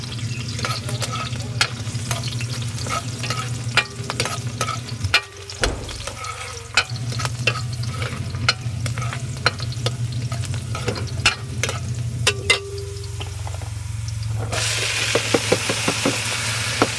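Adobo sizzles in a pan while being stirred, a steady frying hiss under repeated sharp clicks and scrapes of the utensil against the pan, with a brief lull midway and no talking.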